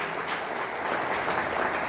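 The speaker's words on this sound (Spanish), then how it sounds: "Dale un aplauso al Rey de Reyes" A church congregation claps together in a dense, continuous wash of applause that holds steady throughout, with no voices standing out.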